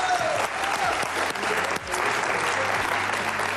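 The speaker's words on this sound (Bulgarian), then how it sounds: "Айде, силни аплодисменти" A studio audience at the Bulgarian game show Deal or No Deal bursts into loud, sustained applause, with a few voices and brief tonal sounds audible through the clapping.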